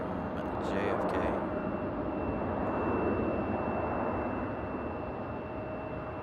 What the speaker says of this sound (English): There's our A319 from JFK.